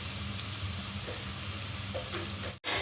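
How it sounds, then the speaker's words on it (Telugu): Onions fry steadily in hot oil in a pan as they cook to golden brown, a close, continuous sizzle with faint stirring scrapes and a brief break near the end. "ఆనియన్స్ గోల్డెన్ బ్రౌన్ అయ్యేంత వరకు వేయించుకోవాలి ఆనియన్స్ని"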